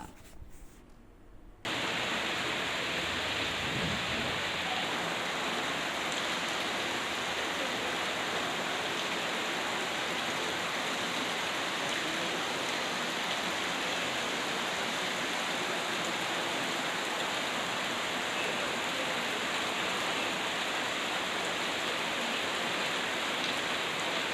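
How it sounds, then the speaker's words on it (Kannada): Heavy rain falls in Ponnachi village, Hanur taluk, Chamarajanagar district, with rainwater running along the road, a dense, steady hiss and wash that holds unbroken for over twenty seconds, with no voices. "ಮಳೆಯಿಂದಾಗಿ ರಸ್ತೆಯಲ್ಲಿ ಮಳೆಯ ನೀರು ಚರಂಡಿ ನೀರು ಹರಿಯುವಂತೆ ಹರಿತಾ ಇದೆ"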